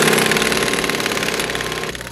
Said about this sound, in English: Customs agents drilling for drugs.